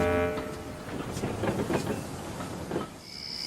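An animated steam engine from Thomas and Friends sets off pulling its train, starting with a short whistle-like tone and then chuffing and rumbling rhythmically along the rails.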